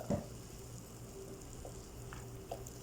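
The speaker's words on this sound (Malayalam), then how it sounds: "അരച്ചു വെച്ച അരപ്പ് ഇതിലേക്ക് ഒഴിക്കുക" Ground spice paste for a vegetable kurma is poured into a hot pan and gives a faint, steady sizzle with a short, sharper burst at the start.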